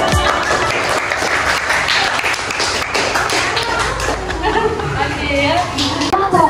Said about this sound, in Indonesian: Tepuk tangan untuk Bu Sri.